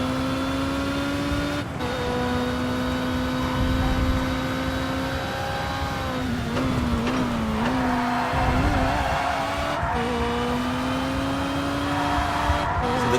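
A DTM race car engine in TOCA Race Driver 3 drones loud and steady at full throttle, its pitch dipping and wavering briefly mid-run before holding high again, with faint clicks and bumps.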